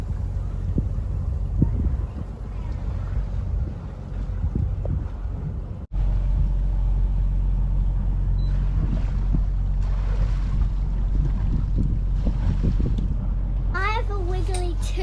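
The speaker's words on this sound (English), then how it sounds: "Cruise boat's coming in." A cruise boat approaches near Zamami, Okinawa, its engine a steady low rumble under wind buffeting the microphone and lapping water, with voices talking nearby.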